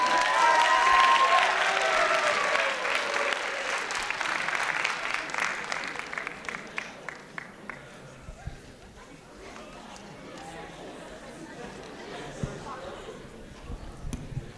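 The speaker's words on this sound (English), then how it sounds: "Big round of applause for him." Indoor audience at a live show bursts into loud applause and cheering that gradually thins out into scattered claps and crowd chatter over about fifteen seconds.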